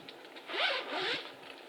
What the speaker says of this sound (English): it comes in this nice Ziploc bag